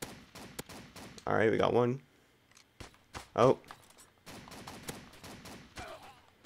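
Gewehr 43 semi-automatic rifle fire in a Roblox World War II shooter: a loud burst of shots, then a second shorter volley, with a voice talking in between and after.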